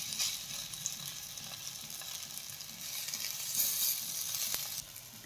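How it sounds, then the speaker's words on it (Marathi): Cutlets fry in a shallow layer of hot oil, giving a steady, fairly close sizzle that swells slightly toward the end before easing off, with no voices. "तेल हलकसं गरम झालं की त्यामध्ये आता आपण कटलेट छान फ्राय करून घेऊयात"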